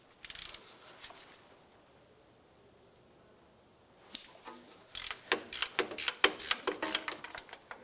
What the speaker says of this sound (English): To remove the connector, we'll use an 18 millimeter socket and unscrew it from the transmission.